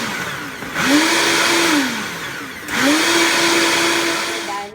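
An electric blender grinds toor dal mixed with warm water in two loud, close bursts. A short whirring run is followed by a brief pause and a longer second run.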